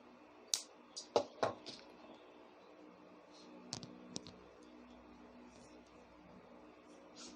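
Small cutters snipping wire while a rosary chain is made by hand, a few crisp close clicks in a quick cluster followed by two fainter snips, against a quiet room.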